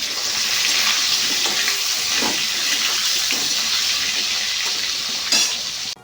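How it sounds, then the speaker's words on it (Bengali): Potatoes, green chili and eggplant fry together in a pan, producing a loud, steady hiss and sizzle close up, with a few faint scrapes and clinks of stirring, and the sound cuts off at the end. "আলু ভাজতে ভাজতে কাঁচা লঙ্কা দিতে হবে তারপরে যে বেগুনটা কেটে রাখা ছিল সেই বেগুনটা দিয়ে একসঙ্গে ভাজতে হবে"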